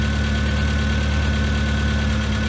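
A classic Mini's engine idles steadily up close, a loud, even mechanical drone with a fast regular pulse that holds without change throughout.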